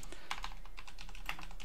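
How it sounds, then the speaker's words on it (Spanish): Computer keyboard keys Control, Alt and Shift pressed, a quick cluster of soft plastic clicks, close and fairly quiet. "si apretamos Control, Alt y Shift al mismo tiempo"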